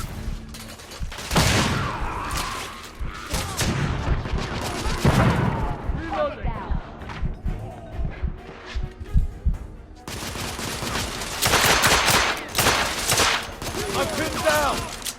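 Gunfire in The Order: 1886 during a covering-fire firefight: loud repeated bursts and rapid volleys with booming shots, close and dense, alongside voices talking in between.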